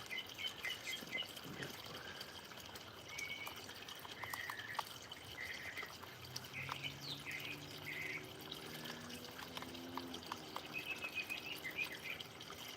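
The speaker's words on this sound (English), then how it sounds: "Birds are going crazy." Outdoor birds chirp and sing repeatedly in short bright phrases over a steady watery background hiss, moderately distant, with no talking.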